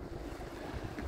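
Wind gusting by the sea at a fish quay near a lifeboat station, a short burst of rough, buffeting microphone rumble, loud and close, no voices.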